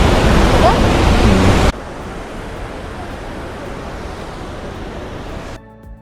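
A small waterfall in Spiti in winter gives a steady broadband rush of falling water, loud at first and then softer and constant, with no talking.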